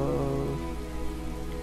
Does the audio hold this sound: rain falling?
yes